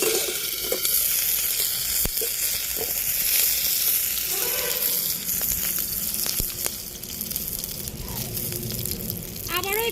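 Small fish paturi wrapped in thankuni leaves cooks over a low flame, giving a steady soft sizzle and frying hiss throughout with occasional light clicks and stirring sounds.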